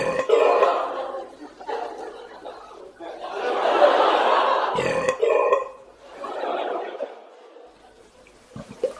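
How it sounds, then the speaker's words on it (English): A supragastric belch demonstrated by a clinician, with air sucked into the esophagus and expelled: a series of loud, croaky belching bursts with brief gaps between them, close up and alone. "the supragastric belches were much more demanding. It cost me a lot of effort. I had to suck the air in the esophagus"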